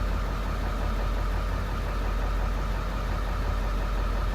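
A Ford Powerstroke 7.3 liter diesel truck engine idles steadily and loudly up close after a rough first start, a constant low rumble with a slight knocking texture.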